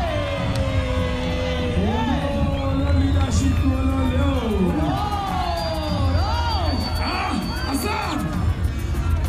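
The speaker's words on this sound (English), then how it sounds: "Let's give them a round of applause." A large crowd at a Democratic Alliance political rally in South Africa cheers, whoops and shouts continuously, loud and dense throughout, with voices rising and falling over sustained applause.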